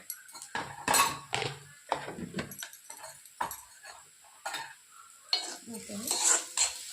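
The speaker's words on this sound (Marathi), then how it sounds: "छान मिक्स करून टाकू" A spoon stirs and scrapes upma in a metal pan, giving a series of loud irregular scrapes and clinks with brief pauses, faint sizzling between strokes, close by with no talking.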